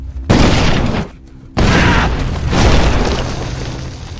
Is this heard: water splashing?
no